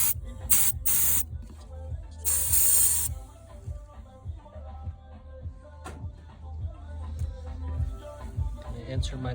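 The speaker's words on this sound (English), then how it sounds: "What I'm gonna do is clean that on out there with some brake cleaner." Brake cleaner sprays in sharp hissing bursts over the engine area of a 2012 Buick Verano, with two short blasts and a longer one early on, then occasional clicks and handling noise over a low background hum.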